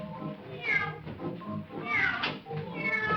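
Several drawn-out meows from a cat that has wandered onto a live 1950 children's TV stage, the cries rising and falling in three or so bursts, close and fairly loud against a faint room background.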